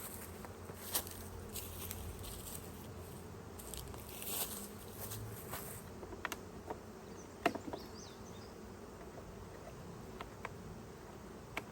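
Honeybees from a package colony buzzing around a newly set-up hive, a soft steady drone of many insects with individual bees zipping past close by, and light scattered taps and rustles, faint overall.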